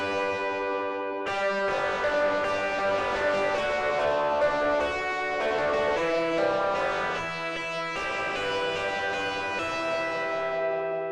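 Sustained Ample Telecaster II electric guitar chords with a slow, sweeping phaser swirl, played alone in a few long strummed phrases.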